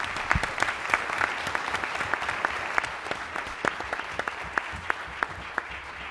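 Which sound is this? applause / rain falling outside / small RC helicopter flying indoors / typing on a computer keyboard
applause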